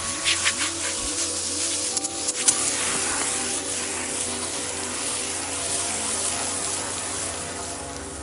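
Water sprays hard onto rotten-looking logs with live edges, a continuous loud hissing rush with a steady machine hum underneath and a few crackling spatters early on.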